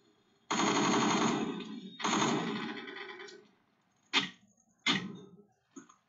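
AK12 gunfire in the Roblox game Phantom Forces: two long bursts of rapid automatic fire, then a few short, sharp single shots with silence between them, close and clear.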